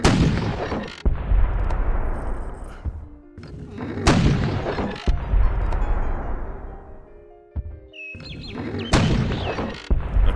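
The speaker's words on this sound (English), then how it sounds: "Of course the artillery bombardments just keep failing." Artillery bombardment in the video game Civilization 3, heavy booming shots with long rumbling decays repeating every second or two, loud and close, with a few faint game interface tones between blasts.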